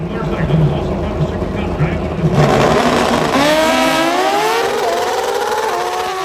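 A Pro Stock drag motorcycle engine at an NHRA race, built on a former Matt Smith bike, screams loudly on its rev limiter, its pitch climbing in a stuttering sustained wail after a commentator's talk.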